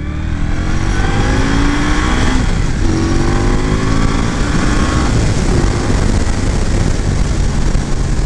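A 2022 Indian Scout Rogue motorcycle engine runs steadily and loud throughout, rising in pitch as the bike accelerates hard, with strong wind noise over the engine and no talking.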